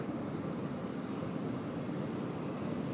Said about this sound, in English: we enjoy the beautiful engine start sounds of the Qantas A380 off to London